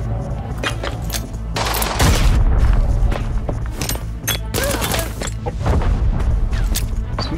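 Gunfire in the video game Arena Breakout during an armory raid: loud, dense bursts of rapid shots and booming reports keep coming through the whole stretch, with heavy low-end thumps and barely a pause between volleys.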